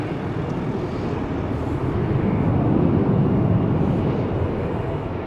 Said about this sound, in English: Of course it's the Embraer 175 to Luxembourg.